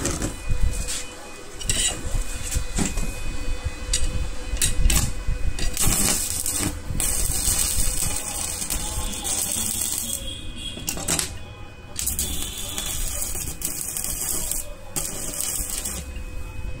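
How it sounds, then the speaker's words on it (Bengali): An electric arc welding machine runs at reduced amperage during a repair, giving a steady, close crackling and sizzling with brief pops throughout, and no talking. "আমরা একটু অ্যাম্পিয়ার কমায়ে দিয়ে ওয়েল্ডিং করবো এখানে।"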